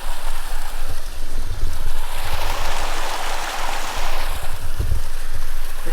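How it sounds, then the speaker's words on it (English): Loud, continuous rush of a stream tumbling over rocks in the Lake District's eastern fells, close by and steady with broad splashing noise and no talk. "I just love the sound of water."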